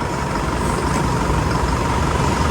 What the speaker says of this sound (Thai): อันนี้กับการว้อนเครื่องยนต์ในเชฟ โรเลต เครื่องยนต์ 4 JK นะฮะ